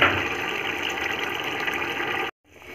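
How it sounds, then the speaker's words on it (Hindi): Water pours in a continuous stream into a pot for boiling soaked rice for chicken yakhni biryani, a loud, steady rushing fill that cuts off abruptly near the end. "मैं जितना चावल है उसका डबल पानी डाल रही हूँ।"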